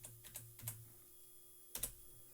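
Someone types on a computer keyboard, entering a web address, in short clusters of soft, close keystrokes with a long pause between bursts and a faint steady hum underneath.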